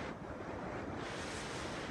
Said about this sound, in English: There's a little water wheel, a little waterfall, and the river goes on down.